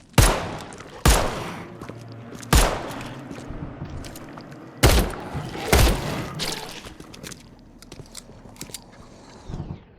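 Guns fire in The Sinking City video game: several loud, sharp shots spaced a second or two apart, with thin reports and some rattling debris between them in an otherwise quiet space.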